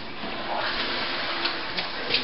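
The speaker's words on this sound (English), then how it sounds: "it's dripping on me from the ceiling" Water falls steadily from the ceiling of a flooded barracks room, a continuous close splashing wash with a few sharper drip spikes near the end, heard alone without talk.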